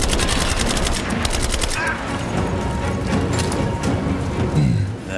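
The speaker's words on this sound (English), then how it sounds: "Give me suppressing fire, now! Laying down covering fire!" Heavy, continuous automatic gunfire in a video game trailer shown at a Gamescom 2015 press conference, loud and dense throughout, with several weapons overlapping and booming impacts underneath.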